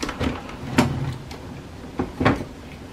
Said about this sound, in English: Close the cartridge access door.